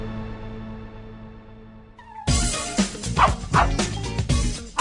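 After a quiet musical lead-in, a dog suddenly barks and yips several times in quick succession, loud and close, with whimpering tones between the barks.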